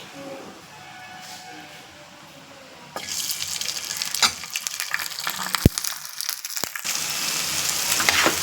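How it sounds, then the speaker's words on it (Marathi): Potatoes and green chillies go into hot oil for a simple khichdi, and after a quiet start a loud, crackling sizzle suddenly takes over and keeps going, with a few sharp knocks. "बटाटे हिरवी मिरची मस्त तेलामध्ये फ्राय करून घ्यायची"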